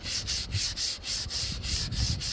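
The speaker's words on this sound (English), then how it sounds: "It's just gonna require a lot more sanding. Even though this is pretty easy to sand," Steady back-and-forth sanding of Bondo putty and wood filler on a model rocket, a close, loud, rhythmic rasp with about four strokes per second, heard alone.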